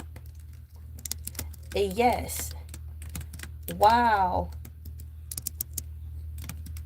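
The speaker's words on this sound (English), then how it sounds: "I'm typing that in here too." A computer keyboard clatters with rapid, irregular key taps at close range, interrupted by two short spoken exclamations over a low steady hum.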